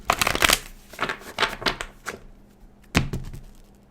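Quick riffling bursts of a tarot deck being shuffled, several rapid flurries in the first two seconds, then a sharper final riffle near three seconds.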